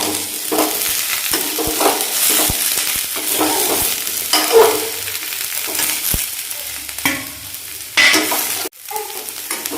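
Mixed vegetables with green capsicum fry in a pan with a steady, loud, close sizzle. A spoon stirs and taps against the pan now and then, and no one speaks.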